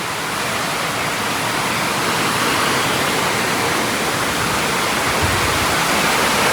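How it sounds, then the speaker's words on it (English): Heavy rain drums steadily and loudly on a 1948 A.J. Higgins canvas tent trailer, a dense, unbroken roar with no voices. "The amazing thing is the water's still beating up on it."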